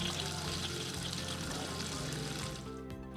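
Antifreeze running steadily from the external shower hose of a 2026 Series Remote van being winterized, a continuous close gushing pour that tapers off slightly at the end, with no voices.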